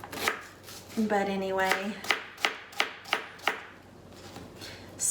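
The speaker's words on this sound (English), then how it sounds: "I'm just gonna chop up this onion, just a yellow onion" A yellow onion chopped on a cutting board with a knife, several distinct sharp chops in a steady rhythm, close and clear, with a brief spoken remark and a short burst of voice-like tone between them.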